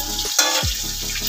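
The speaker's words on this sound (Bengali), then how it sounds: "পেঁয়াজটা ভালো করে ভাজা ভাজা হবে।" Chopped onions and slit green chillies fry in a pan, a close steady sizzle with a quick scrape or splash partway through, with no voices.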